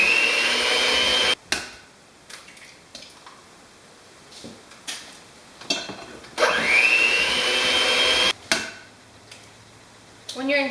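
A handheld electric mixer beats eggs one at a time into almond bar batter, whirring loudly in bursts with sudden stops and restarts and rising and falling pitch, close by.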